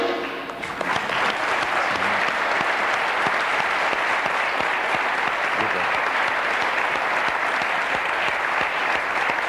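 Loud, dense studio audience applause on a French television talk show, a continuous roar of clapping that swells in quickly at the start and stays full and even to the end, with no voices on top.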